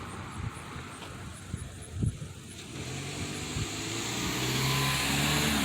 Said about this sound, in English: So, I'll wait for this car to go.